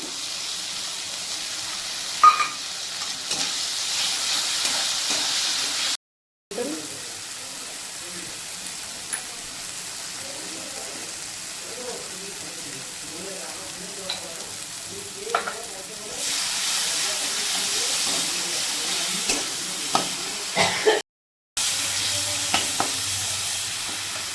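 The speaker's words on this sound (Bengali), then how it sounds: "মশলাটাকে ভালো মতো করে কষিয়ে নিতে হবে" Masala of hot chilli powder and tomato paste fries in a pan, a continuous hissing sizzle with intermittent scraping stirs, loud and close, briefly cutting out twice.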